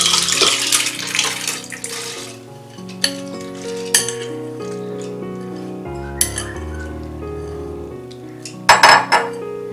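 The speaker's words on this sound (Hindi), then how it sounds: "पानी डाल देंगे" Water poured into a metal pressure cooker holding soaked panchmel dal, a close splashing stream with metallic clinks and sustained ringing tones from the pot.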